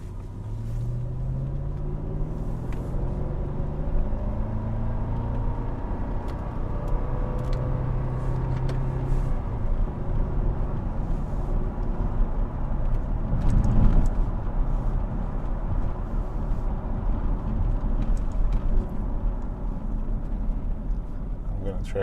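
A 2010 Jaguar XFR engine rises steadily through a 0-60 mph launch with traction control on, a loud continuous rumble heard from inside the car while a person talks over it.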